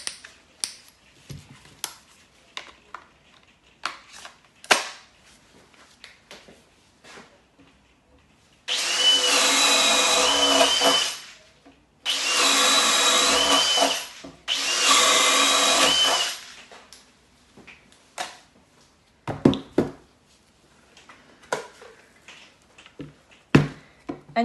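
Hilti compact drill driver boring into timber with a 16mm spade bit, three loud bursts of whirring drilling separated by short pauses, surrounded by quieter clicks and handling noises.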